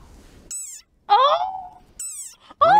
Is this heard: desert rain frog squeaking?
yes